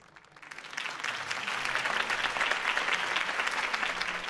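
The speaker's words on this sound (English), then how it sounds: "could have heard that applause" Crowd applause in the video game Batman: The Telltale Series breaks out, swelling within the first second and then continuing as steady, dense clapping to the end.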